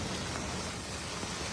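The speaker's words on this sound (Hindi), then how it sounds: "और ये देखिए बूंदाबांदी देखिए" Light drizzle falls steadily in Bilaspur during a storm, a dense, even hiss of raindrops on surfaces without any distinct pattern, close and moderately loud, with no voices.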